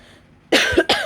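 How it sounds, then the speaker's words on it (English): A person coughs twice in quick succession, sharp and close, after a near-silent moment. "Sorry about the coughing."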